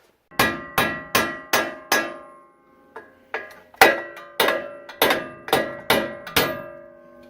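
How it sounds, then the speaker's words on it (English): Sharp ringing metallic hammer blows on the upper control arm of a 2006 Ford Explorer, about a dozen, struck in an even rhythm with a short pause partway through, close and loud. "get our hammer, just give that a solid thud"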